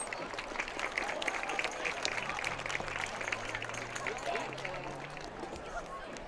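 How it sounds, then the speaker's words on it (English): Crowd applause at a high school football game honoring the band seniors, a broad, moderately distant clapping that holds steady. An announcer talks over it, and a low hum runs partway through. "Let's give our band seniors one more round of applause."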